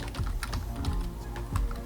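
Typing a command on a computer keyboard in a command prompt session, a quick irregular run of light key clicks and taps, close and soft with no talking.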